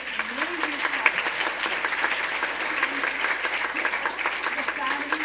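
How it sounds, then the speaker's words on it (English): Steady applause from an audience at a scholarship awards ceremony honouring recipients, dense and sustained throughout, with a voice faintly audible beneath the clapping. "A big round of applause for a wonderful, amazing scholarship."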